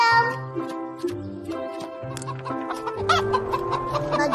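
Cartoon chickens clucking in the Upin & Ipin animated series, a lively run of repeated clucks and squawks layered over light background music.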